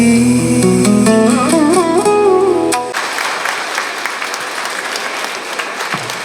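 Award ceremony crowd breaking into applause: after a few seconds of sustained musical tones, a dense steady wash of many hands clapping takes over and carries on, moderately loud and even.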